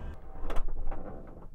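Inside a Grech RV Strada-Ion Class B luxury camper van, the door is pulled shut with a short, soft slide and a muted thud, heard close up and alone.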